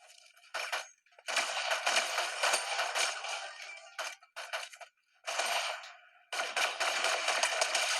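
Rapid gunfire rattles through a Fortnite match in long, dense bursts with short gaps between them, loud and close, with a metallic clatter and no voices over it.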